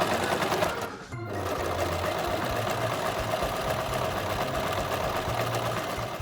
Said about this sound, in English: I can stitch all the way around, and if I'm leaving my needle in and pivoting at the corners